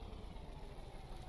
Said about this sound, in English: Let's go zero, idle engines. Idle engines works.